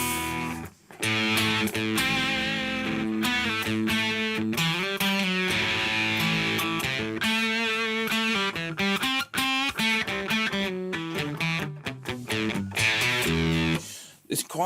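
Electric guitar playing chords and single notes through a Mesa Boogie Mark III amp with light distortion, clean-edged and rhythmic, with brief pauses between phrases.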